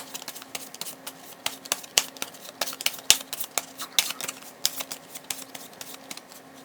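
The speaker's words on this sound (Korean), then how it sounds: "그럼 저는 카드를 섞어볼게요." Tarot cards being shuffled by hand, a run of close, crisp riffling and slapping taps repeating unevenly throughout, with no voices over them.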